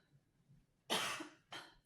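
Two close coughs from a tarot reader, a strong harsh burst followed by a shorter second one, alone in a quiet room.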